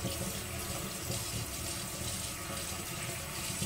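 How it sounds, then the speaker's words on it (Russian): Tap water runs steadily into a sink while dirty farm eggs are rinsed before frying, a continuous close splashing wash with no talk. "Оно вот такое вот грязное, но мы его промоем перед тем, как обжаривать и разбивать."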